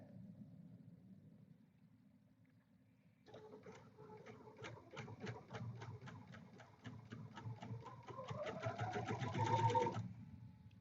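A sewing machine stitches quilt pieces together in a quiet room, a low motor hum followed by a fast, even run of ticking needle strokes for several seconds before stopping.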